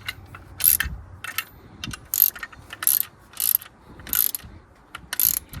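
Ratchet snugging the bolts of a RotoPax spare tire mount: about eight quick bursts of sharp clicking, each a short run of pawl ticks with small gaps between, close and clear, no voices.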